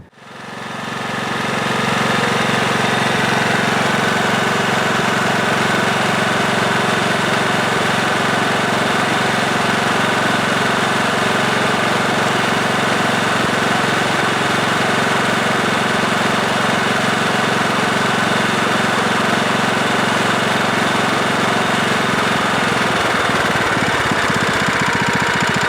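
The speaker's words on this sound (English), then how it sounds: "but I am happy about the engine running." A Scotts lawn tractor engine runs steadily and loudly after an engine swap, a constant mechanical drone with a rapid knocking texture throughout, no voices.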